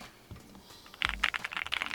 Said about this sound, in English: can you try like typing on it?